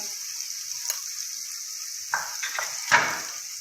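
Jain poha ingredients being sautéed in a pan, a steady bright sizzle with a few short spatula scrapes and one louder stir toward the end.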